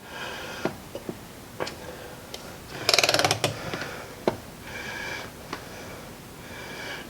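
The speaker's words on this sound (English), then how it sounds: "we're using the digital torque wrench. We're going to set it to 140. We're going to see right now when it starts to move" A digital torque wrench set to 140 turns an automotive fastener until it breaks loose: scattered ratcheting clicks, then a dense burst of rapid ratchet clicking near the middle, followed by a few isolated clicks, close and fairly quiet.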